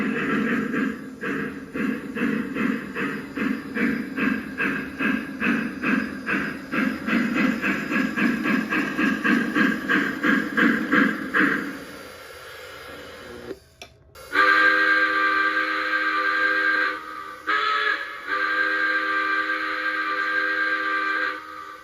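A Lionel Legacy K4 model steam locomotive, Polar Railroad number 25, sounds its whistle. A loud pulsing whistle with hiss runs for about twelve seconds, then after a short pause a steady, clear whistle blows in two long blasts.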